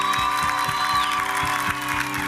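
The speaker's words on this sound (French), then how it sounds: "Applaudissements pour Julie, s'il vous plaît." Studio audience applauding contestant Julie on a televised singing competition show, steady dense clapping throughout over a continuous musical backing with a rhythmic beat.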